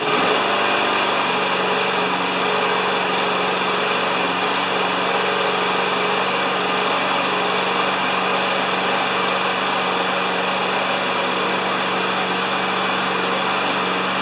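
A Craftsman lawn mower engine runs steadily and loudly after a pull start, a continuous high-pitched buzzing drone with no talking over it.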